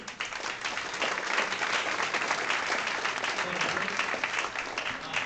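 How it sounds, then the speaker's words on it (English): Sustained audience applause fills a VR meetup hall hosted at Samsung, a dense, steady wash of many hands clapping at fairly close range with no pauses across the whole stretch. "let's give him a warm round of applause"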